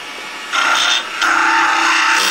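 Chisel-like rasping scrapes into wood as the bottom of a small wooden vase is hollowed out, with two longer, louder bursts of scraping close by and no talking.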